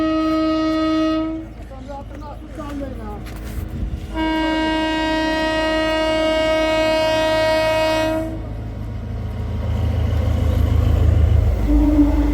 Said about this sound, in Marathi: रेल्वेवाली रेल्वे.